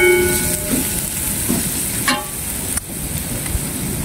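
Fish cake and meat drop into a pan of alugbati and are stirred, giving a steady sizzle with scraping stir strokes and a brief clatter near the middle, no talking.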